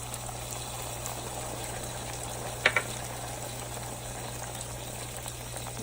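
A lemony seafood sauce boils in a pot with a quiet, steady bubbling simmer. One brief clink stands out partway through, and no one speaks.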